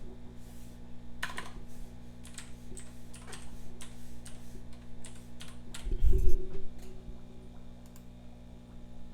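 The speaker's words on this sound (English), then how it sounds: "So we will type it in." Someone enters customer details on a computer keyboard, producing a run of quick, close key clicks in irregular bursts over a low steady hum, with one louder thump near the middle.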